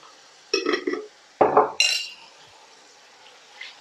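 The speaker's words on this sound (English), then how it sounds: "Want to mix everything in." Chicken balti ingredients with methi and Lahori charga are mixed in a pan, giving a few clinking metallic scrapes and knocks of utensil on cookware, short and close against a quiet background.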